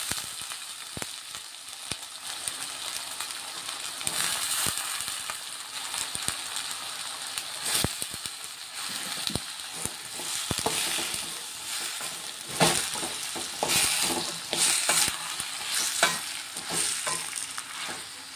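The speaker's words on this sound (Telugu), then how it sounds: "ఇప్పుడు ఇందులో కట్ చేసుకున్న వంకాయ ముక్కలు వేసుకుంటున్నాను." Cut brinjal pieces frying in a pan, giving a steady close sizzle with scattered crackles and the clatter of stirring, and no one talking throughout.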